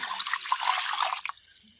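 Water poured from a vessel into a pot of Kerala-style mackerel curry with chili and coriander powders, giving a short, bright splashing trickle that is close and steady before tapering off.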